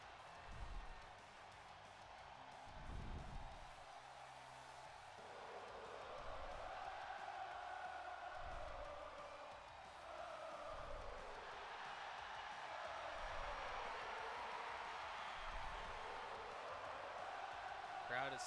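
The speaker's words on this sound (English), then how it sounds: "Crowd is singing along here with Sami Zayn as he gets ready for a big opportunity." Arena crowd in the wrestling video game WWE 2K25 singing along with an entrance theme before a Money in the Bank ladder match, a steady sustained roar under the music with commentary talking over it throughout.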